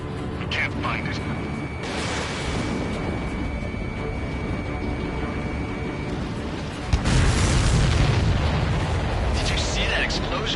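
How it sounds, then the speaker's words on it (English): A supply ship blowing up in the Ace Combat 7 flight game: a sudden heavy boom hits near the seven-second mark and swells into a loud, sustained rumble over constant engine drone and mechanical whirring. "Did you see that explosion? Looks like that's one of them down."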